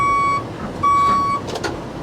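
Retired AT&T work truck backing up, its reversing alarm sounding in two clear beeps, the second long, over a low engine rumble close by.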